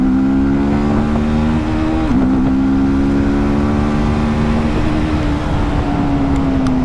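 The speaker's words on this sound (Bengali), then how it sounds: "চলুন এর যে অ্যাক্সেলারেশন টেস্ট ওটাও আপনাদের এখানে করে দেখিয়ে দিই" A 2024 TVS Apache RTR 310, a 300cc motorcycle, accelerates hard and close up, its loud engine note climbing steadily with a brief dip partway through as it shifts, with no talking over it.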